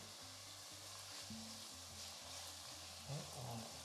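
Steady sizzling from onions and a sprig of thyme frying in a pan, a continuous crackling hiss with faint low hum and occasional stirring clatter.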